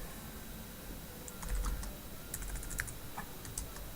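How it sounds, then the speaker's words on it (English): Keys tapped on a computer keyboard during a Java programming lecture, a sparse, irregular scatter of quiet clicks in small clusters over a low steady room hiss, with no talking. "Anyway, I can probably type it in"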